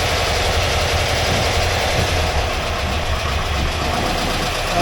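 A 1982 air-cooled VW Vanagon Westfalia engine runs in gear with a loud, steady, low mechanical drone and rumble, close and continuous throughout.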